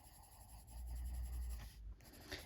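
Light colouring with a coloured pencil on paper: soft, close scratching strokes with a brief pause and a faint scrape near the end, quiet and without talk.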